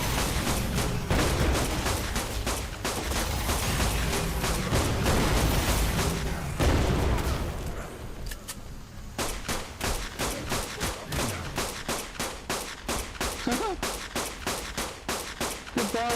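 Rapid pistol gunfire in the video game ARK Genesis, rattling in dense repeated bursts, with a short lull before a steady run of evenly spaced sharp shots.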